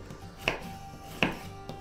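A knife cuts through soft gingerbread cookies on a board, giving three crisp, evenly spaced chops that are quiet and close, with no talking.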